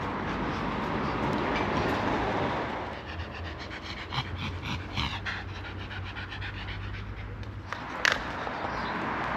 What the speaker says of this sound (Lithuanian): O, traukinukas iš Gėlių,